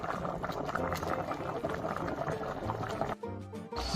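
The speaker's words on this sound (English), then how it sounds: "Let's continuously simmer it till the flavor and the fish is done" Mackerel simmering in coconut milk with pepper and red chili in a covered pot, giving a steady, soft bubbling hiss that cuts out abruptly before a brief low thump.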